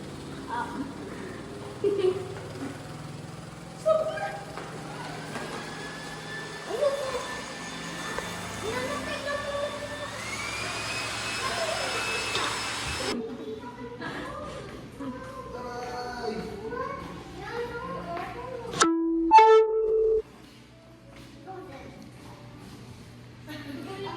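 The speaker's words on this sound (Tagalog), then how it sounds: "Why is it spinning? Because it's a spin dryer." A spin dryer spins up, its motor whine climbing steadily in pitch and holding high for several seconds before cutting off, while people chat and move about close by.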